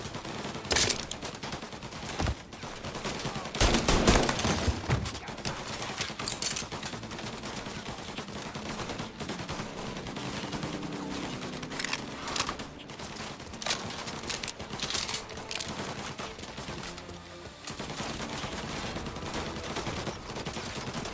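Sustained gunfire in the Mafia Definitive Edition video game, dense bursts of automatic and single shots rattling continuously through an alleyway firefight, with a louder cluster of blasts early on and no talking.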